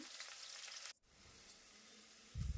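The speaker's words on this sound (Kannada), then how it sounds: "ಈರುಳ್ಳಿ ಸಾಫ್ಟ್ ಆಗಬೇಕು ಹಾಗೆ ಕಲರ್ ಹುಟ್ಕೋಬೇಕು ಆ ರೀತಿ ಎಣ್ಣೆಯಲ್ಲಿ ಇದನ್ನು ಹುರ್ಕೋಬೇಕು" Onions frying in hot oil for a green pea and fenugreek leaf pulao, a steady soft sizzle broken by a brief pause, then a louder low stirring clatter at the end.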